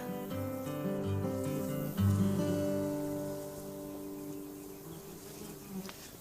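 Honey bees buzz around small queen-rearing nucleus hives in an apiary at Fabas, a dense, steady droning hum close by with a brief swell partway through, and no talking.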